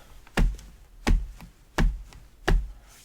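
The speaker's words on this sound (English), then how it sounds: "the bass drum, which is in this case is my foot on a book." Foot stomping on a book as a makeshift bass drum, four dull thumps with short knocking follow-ups, evenly spaced in a steady beat, close and alone.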